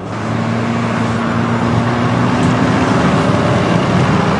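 Kia Soul 1.6 VGT diesel car pulling away from a standstill, a steady, loud engine drone with low harmonic hum and road noise that holds constant throughout.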